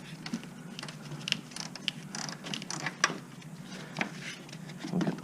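Loosening the bolts on a Toyota RAV4 front strut (2005–2012 third generation), irregular metallic clicks and ratcheting taps from a hand tool, close by and fairly quiet, with no talking.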